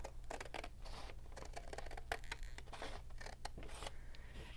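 Scissors snip through paper while cutting out square pocket pieces for a journal, a quick run of close, crisp, faint cuts and rustles repeating irregularly with no voices.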